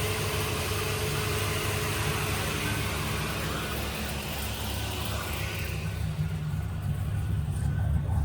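Steady, low engine idle nearby from an LS-swapped Chevrolet Caprice with the AC on, an even rumble with a faint hum on top and no talking.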